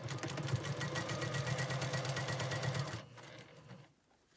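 A sewing machine stitches a quilt block with a fast, steady mechanical whir up close for about three seconds, then slows and stops.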